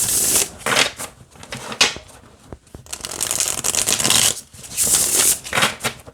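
A deck of tarot cards is shuffled close up in several quick riffling bursts, with brief pauses and soft taps between them.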